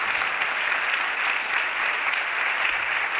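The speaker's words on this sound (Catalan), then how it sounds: "jo crec que es mereixen un aplaudiment la gent de la coixinera" A theatre audience gives steady, continuous applause after a children's cantata performance, a dense wash of clapping heard from within the hall without pause.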